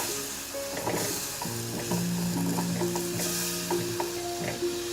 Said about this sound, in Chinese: 开中火炖煮，筷子不时地翻动一下